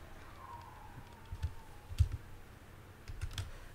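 Computer keyboard keys pressed for a shortcut combination, a few soft clustered clicks and taps, quiet and close, with faint room hum and no talk.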